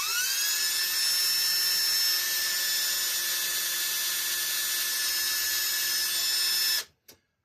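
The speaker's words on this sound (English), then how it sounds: "I got to be careful not to get my drill bit stuck in there because it's barely chucked up in the drill" A high-pitched electric drill whines steadily at close range, cleaning a hole in a Bolens Husky push mower carburetor, holding one tone for several seconds before cutting off abruptly.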